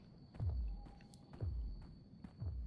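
Footsteps in the horror video game Unforgiving: A Northern Hymn, three heavy, muffled thuds spaced about a second apart over a faint steady hum.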